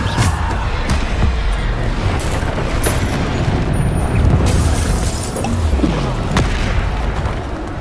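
Bombarda spell blasts in Hogwarts Legacy come as a rapid, dense string of loud booming explosions and crackling impacts that run almost continuously, with brief bright pops and shattering hits layered on top.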